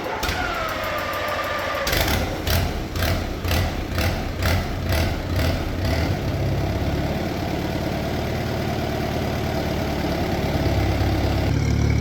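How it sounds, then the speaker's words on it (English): An old Mustang skid loader on a cold 32-degree day, fitted with a borrowed Ford tractor battery, cranks in a rhythmic clatter, fires up and settles into a steady, close idle that runs on alone. "like old tractors do, they always fire right up"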